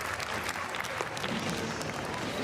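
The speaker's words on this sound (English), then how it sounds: "you can just feel this crowd's ready to erupt for him" Crowd at an X Games Japan 2023 skateboard vert competition applauds and cheers steadily throughout, a dense wash of clapping and voices with no single standout peak.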